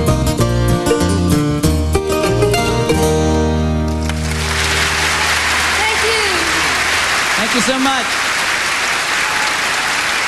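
A live country-folk duo's song ends on a sustained final chord, then loud audience applause takes over and fills the room, with a few cheers and whoops rising over the clapping.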